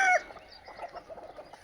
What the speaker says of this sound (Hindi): ये है प्योर देसी मुर्गे।